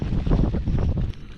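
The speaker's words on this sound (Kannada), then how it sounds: "ಅಂದರೆ ಗಾಳಿ ಇದೆಯಲ್ಲ" Wind blowing at an outdoor hilltop campsite at Dodda Betta in Coorg, loud rumbling gusts buffeting the microphone for a moment before easing, with no talking.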